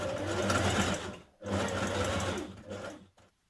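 A home sewing machine topstitches a Simplicity 8735 wrap dress from the waist down in two fast whirring bursts with a brief pause between them, then a short final run.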